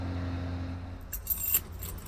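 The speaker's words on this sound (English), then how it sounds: "Reluctantly, here they are. Here's the keys." Original keys for a 1967 Camaro RS/SS jangle briefly up close, a short metallic rattle after a low engine-like hum fades, with no talk.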